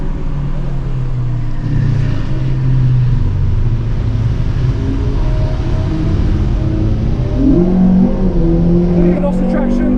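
A Honda Civic Type R FN2 engine pulls hard on a race track, a loud, continuous roar climbing in pitch through the revs with a gearshift near the end, heard close from inside the car.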